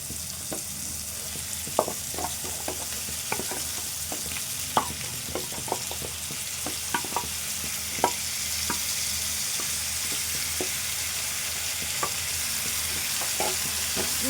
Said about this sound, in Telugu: చికెన్ను కలుపుకుందాము